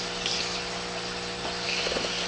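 Alcohol fuel is poured into a homemade stove built from two Febreze spray cans, giving a soft, faint trickle of liquid over a low background hum.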